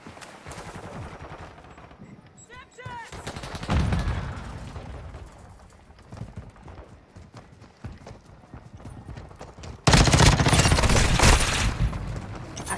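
A Glock fitted with a switch firing full-auto in a video game, rapid bursts of gunfire with a loud sustained spray near the end over game background noise.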